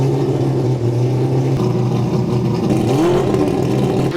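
A four-rotor rotary engine revs hard on a dyno, loud and close, its droning mid-pitched note holding steady and then sweeping upward, continuous with no talk.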